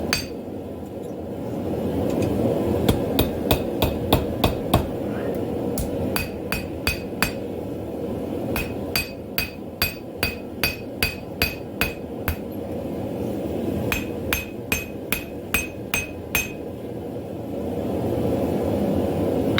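Sharp metallic hammer strikes on hot metal ring out in quick bursts of several blows, pausing between runs, over a steady low roar like a forge burner, while forging a split cross.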